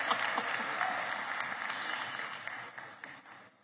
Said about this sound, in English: please give our Deputy Minister, Dr. Regina Mhaule, a round of applause for the vote of thanks